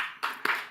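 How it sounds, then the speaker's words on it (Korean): Congregation in a church clapping together, short bursts of applause starting and stopping in quick succession, three or four brief rounds, fairly close and alone without talk. "우리 박수 한번 쳐줍시다."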